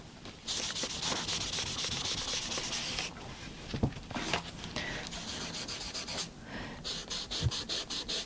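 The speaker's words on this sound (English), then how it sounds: "Cool, rattling the desk now." Pastels are rubbed briskly on paper while colouring a weekly planner at a desk, a close continuous scratchy scrubbing in rapid strokes with faint rattling knocks, and no speech.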